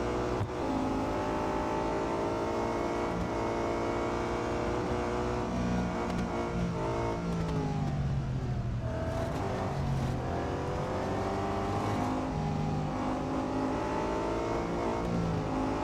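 Race car engines in the mobile racing game Real Racing 3 drone loudly and continuously, the pitch climbing and dipping as the car accelerates, shifts and brakes through corners, with no talk over it.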